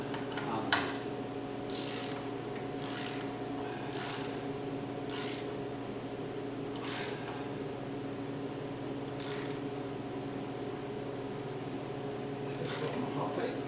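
Ratchet clicks from tightening a fitting during an oil and transmission fluid change on a 2020 Chevy Traverse, coming in several short bursts over a steady low mechanical hum.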